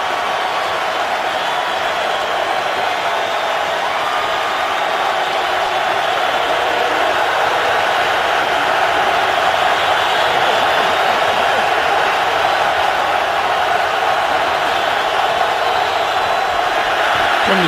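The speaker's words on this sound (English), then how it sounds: "here comes the Philadelphia crowd." The Philadelphia Eagles home stadium crowd roars on a 3rd-and-4 against the Baltimore Ravens in an NFL game, a loud, dense, unbroken wash of crowd noise that holds steady throughout.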